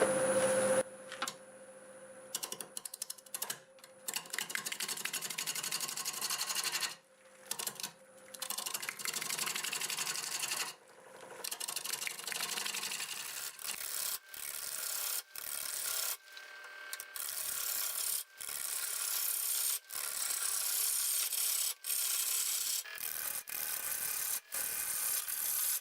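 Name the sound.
bowl gouge turning black walnut on a lathe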